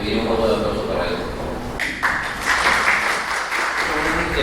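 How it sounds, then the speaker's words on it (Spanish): An audience at a Spanish-language seminar on transfer pricing breaks into applause after a presenter is thanked. A broad wash of clapping swells partway through and continues under lingering speech. "te pediré un voto de aplauso para él"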